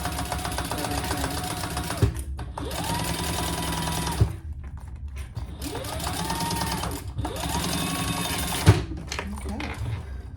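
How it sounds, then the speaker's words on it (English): A sewing machine basting the bottom of a thick vinyl bag closed, running in several loud stitching bursts separated by short pauses, with a voice talking over it. "let's just baste that bottom closed and make sure you're catching"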